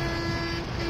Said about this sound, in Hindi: अब ये हॉर्न पे हॉर्न बजा रहा